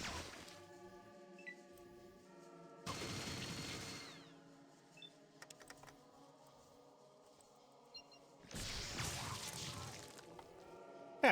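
Gunshots in the Fallout video game land in a few sharp, loud bursts, one near the start, one mid-clip and one late, separated by quieter game ambience and tonal music, with brief crackling impacts between them.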